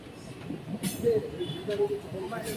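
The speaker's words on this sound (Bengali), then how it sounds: "মার্কেটের মিডিল বরাবর আমাদের ট্রেন ছুটে চলেছে" The Siliguri Haldibari DEMU passenger train rolls through a market with a low rumble, a faint wheel squeal and a few brief horn-like tones, while a voice talks over it.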